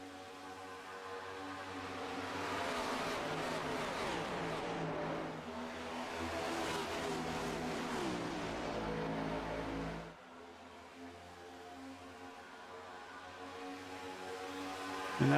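Stock car engines in an iRacing NextGen Cup Series race at Chicagoland, a continuous high-revving drone that swells and fades as cars pass, then drops abruptly to a lower hum near the end.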